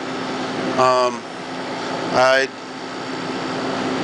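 A modified window air conditioning unit, set up for a small grow room and fitted with a 6-inch exhaust duct, hums steadily throughout, with two short tonal chirps rising over the drone.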